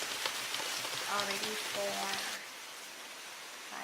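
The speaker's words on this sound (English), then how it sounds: "since it's raining" Steady rain falls in an even, soft hiss, with a brief stretch of background voices and tones partway through before the downpour continues on its own.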